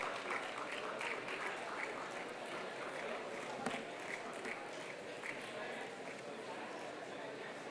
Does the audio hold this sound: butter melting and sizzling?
no